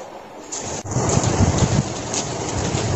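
Heavy early-morning rain pours steadily and close with a dense wash, with a low rumble of thunder swelling beneath it after a brief lull.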